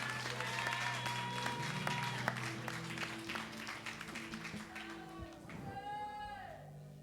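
A congregation applauds during a church worship service, a sustained wash of many hands clapping with voices rising over it and fading toward the end.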